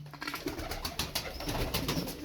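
Turkish tumbler pigeons coo softly in a loft, low murmuring calls blending with rustling and faint background noise over a couple of seconds.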